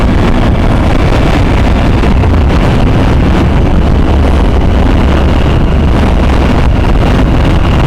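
Suzuki V-Strom 1000XT motorcycle on a test ride, with a steady loud roar of engine and road noise buffeted by heavy wind against the microphone throughout, no talking.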